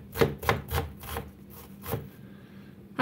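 An onion being chopped with a knife on a board: a run of crisp, evenly spaced chops up close, then a brief pause and one last chop.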